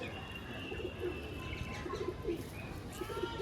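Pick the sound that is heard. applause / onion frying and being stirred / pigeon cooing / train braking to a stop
pigeon cooing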